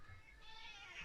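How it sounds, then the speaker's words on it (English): A house cat meows indoors, a short high-pitched call with tonal harmonics, moderately close and fairly quiet, with no talk over it. "The cat's in here."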